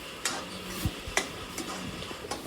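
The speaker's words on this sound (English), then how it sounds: "So yeah, so we'll mix our mixture." A spoon stirs a tomato ketchup sauce mixture in a bowl with soft, close scrapes and clinks. Several light taps at irregular intervals sit over a faint background, with no talk.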